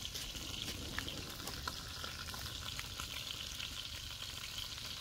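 An egg frying in a hot pan, giving a steady, dense crackling sizzle with scattered pops, close and continuous throughout without any talk.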